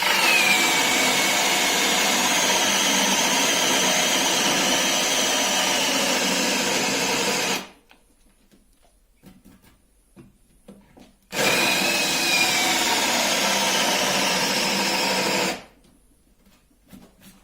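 DeWalt drill boring a hole in solid wood: two steady grinding bursts of about seven seconds and four seconds, each cutting off abruptly into near silence.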